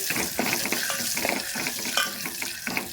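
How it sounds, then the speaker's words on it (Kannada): Garlic frying in oil in a pan until golden, with curry leaves and cumin added, a steady close sizzle with bubbling crackle and occasional stirring scrapes, no voices over it. "ಈ ಬೆಳ್ಳುಳ್ಳಿ ಒಂದು ಸ್ವಲ್ಪ ಗೋಲ್ಡನ್ ಕಲರ್ ರೀ ಅಲ್ಲಿ ತನಕ ಫ್ರೈ ಮಾಡ್ಕೋಬೇಕು"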